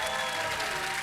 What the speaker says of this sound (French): maintenant un applaudissement pour le top 3